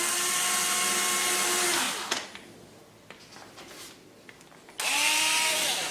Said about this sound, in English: We're only drilling about halfway through, more than enough for what we need.